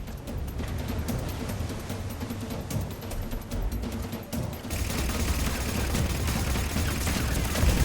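Gunfire in Mass Effect 3 during a firefight near a shuttle: scattered sharp shots and crackling bursts, then a louder, denser stretch of continuous fire and noise in the second half.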